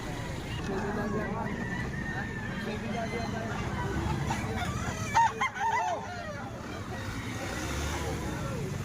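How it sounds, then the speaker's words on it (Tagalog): Many chickens and roosters at a poultry market in Lipa, Batangas crow and cluck over a steady crowd babble, with one sharp, loud call standing out near the middle. "Napakarami manok yan."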